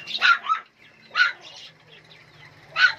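Dog barks inside a pet bird shop: three separate sharp bursts spaced about a second apart, moderately close, with faint background chatter and room noise between them.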